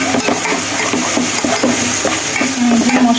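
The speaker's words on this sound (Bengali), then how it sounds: "মশলাটা ভালো করে কষিয়ে নিচ্ছি" Spices frying and being stirred in a pan for a bottle gourd and prawn curry: a steady close sizzle with repeated scraping stirs running throughout, no talking.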